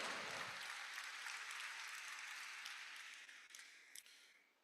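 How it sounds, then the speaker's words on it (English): Audience applause at a university inaugural lecture, a steady wash of clapping that holds for several seconds before slowly thinning and fading out. "Please, let's give her a round of applause."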